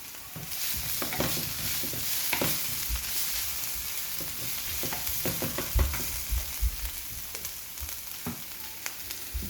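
Nigerian meat pie filling sautéing in a pan: a steady, close sizzle with scattered scraping and clicking stirs throughout, no voices.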